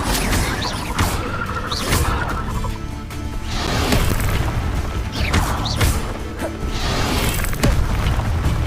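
Incendio fire spell cast over and over in the game Hogwarts Legacy, a loud, dense spread of whooshing crackles and booms rising and falling in bursts across a busy battle background.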